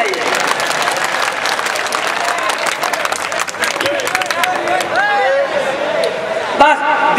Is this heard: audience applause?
yes